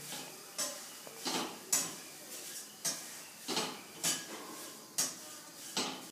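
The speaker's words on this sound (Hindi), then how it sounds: "आराम से धीरे धीरे मीडियम आंच में फ्राई कीजिए।" Poha is stirred and fried in a pan over medium heat for a cornflakes chivda mixture, heard as about a dozen close, regular metallic scrapes and clinks of a spoon against the pan, alone without talk.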